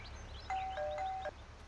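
A doorbell in Farming Simulator 19 gives a short two-tone ding-dong chime, clean and moderately loud over a quiet low background hum, no voices.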